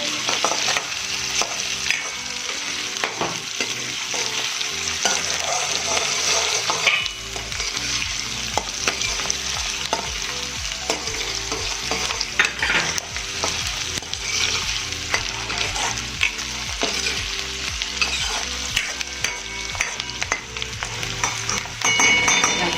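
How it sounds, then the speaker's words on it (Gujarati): Chopped onions frying in a pan for a Gujarati parval and potato curry, stirred steadily with a spoon: a continuous close sizzle with repeated scraping strokes, soft background music running underneath. "હવે આને આપણે થોડી વાર હલાવીશું. ડુંગળીને આપણે સોફ્ટ થવા દઈશું."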